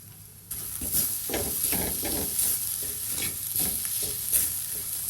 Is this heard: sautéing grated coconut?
yes